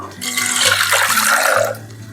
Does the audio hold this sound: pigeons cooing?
no